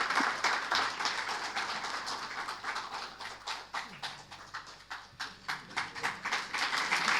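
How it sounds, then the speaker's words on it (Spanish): Audience clapping at a book presentation for Dr. Mariana Altieri, many hands in a rhythmic, swelling burst of applause that pulses strongly and carries on throughout. "Fuerte el aplauso, doctora Mariana Altieri"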